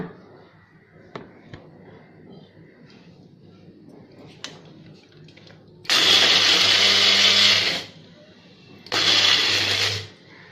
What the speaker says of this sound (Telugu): ఈ పొడాన్ని మిక్సీ చేసేసుకుందాం